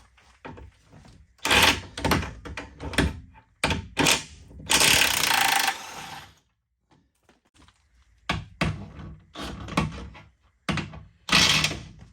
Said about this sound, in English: let's go ahead and take these 2 bolts out and get this control arm out